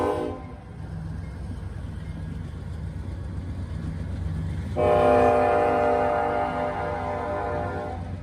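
Norfolk Southern freight train 196, led by locomotive 647 in Santa Fe paint, rumbles past with a deep engine drone. Partway through, the horn blasts loud and sustained over the rolling wagons.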